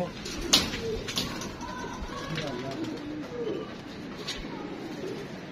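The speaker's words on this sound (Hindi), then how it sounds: "ये हमने कबूतर एक छोड़ दिया इसके साथ, इसको पकड़ने के लिए" A pigeon coos nearby in soft, low, repeated throaty calls, mixed with voices talking and outdoor background noise.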